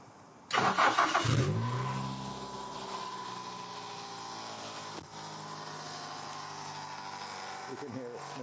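A 2003 Toyota Corolla engine cranks briefly and catches, then runs roughly at a loud, steady idle with a coarse, uneven racket.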